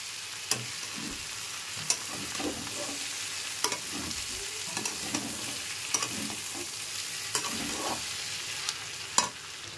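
Ginger garlic paste frying in a pan, with a continuous sizzle and a spatula stirring through it in rhythmic scrapes, punctuated by sharp taps against the pan about every second or two, close up.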